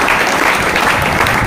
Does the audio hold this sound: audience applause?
yes